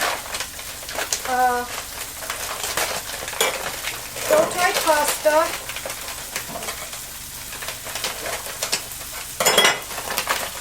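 Vegetables blister, sizzling and crackling in a hot pan, with occasional stirring clatter, while a person talks briefly over the cooking.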